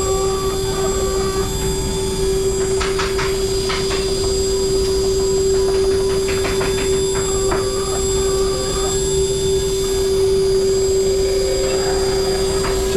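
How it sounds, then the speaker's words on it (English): A cutting machine runs a steady loud whining hum as it makes a pass along the outer edges of cuts in an eyewear frame, with a constant tone and faint intermittent clicking and chatter from the cutter. "this last pass is going to clean the outer edges of those two cuts."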